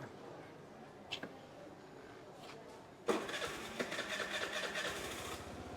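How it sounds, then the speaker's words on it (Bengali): A Suzuki Access 125 FI scooter stands on its stand in quiet surroundings. Partway through, its engine starts and settles into a rapid, pulsing idle close by. "এখন ভাই স্টার্ট দিবে গাড়িটা।"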